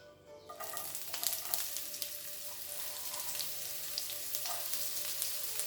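Onions dropped into a hot pan, a sudden loud sizzle that bursts in after a brief quiet moment and then hisses steadily with small crackles.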